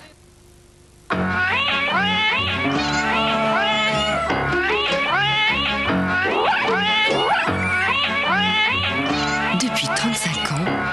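A cat meows repeatedly in a 1995 French Ronron cat food television commercial, a long run of varied close, loud mews and calls set against backing music.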